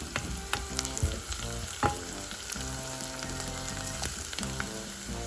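Cardamom pods and whole spices sizzle steadily in hot oil for a spicy cassava and egg curry, a close, continuous crackle scattered with sharp pops and a few stirring clicks, with no talking.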